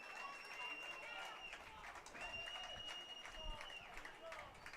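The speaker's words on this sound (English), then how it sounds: "The Larks faithful clapping their hands." Baseball fans in the stands at a Hays Larks game clapping their hands, a faint crowd patter heard at a distance beneath a sustained high whistle-like tone and occasional voices.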